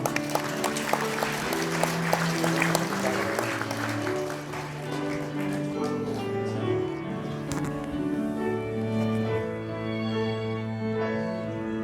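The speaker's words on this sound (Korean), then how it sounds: "다시 한번 큰 박수 부탁드립니다." Wedding guests clapping during a Korean wedding ceremony; scattered applause is strongest at the start and fades, partly masked by loud music playing throughout.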